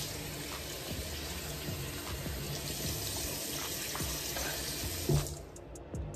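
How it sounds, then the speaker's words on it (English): Water running steadily from a sink tap during a face-washing skincare routine, a constant close splashing rush with a couple of brief louder splashes near the end as hands scoop water, no voices. "when I wash with the soap, I like to take the water and bring it up to my face"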